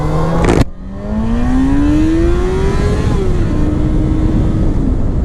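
A 2005 Yamaha FZ6 motorcycle accelerating hard on a test ride, engine note rising steadily through a long pull after a brief shift, loud and close with wind roar underneath.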